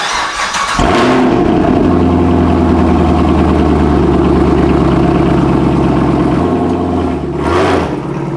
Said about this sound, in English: the best sounding naturally aspirated V8